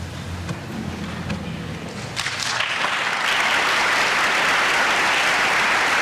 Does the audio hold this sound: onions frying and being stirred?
no